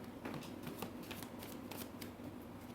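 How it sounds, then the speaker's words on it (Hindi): Tarot cards being shuffled by hand, a steady rustling riffle of close, soft card flicks with no talking over it. "मैं लास्ट शफल, किसी को आना है आ सकते हैं।"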